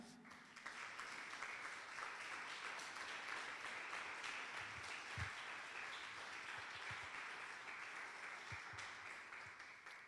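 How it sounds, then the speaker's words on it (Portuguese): A church congregation standing to applaud during a family worship service, the sound a steady wash of clapping that fills the room for the full length with faint voices underneath. "aplauda o Senhor com alegria."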